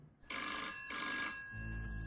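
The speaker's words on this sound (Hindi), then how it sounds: "हजरतगंज पुलिस स्टेशन में टेलीफोन की घंटी घनघनाने लगती है।" An old telephone bell rings in a police station, two loud, close bursts of bright metallic trilling with a short gap between, followed by a low hum as the ringing stops.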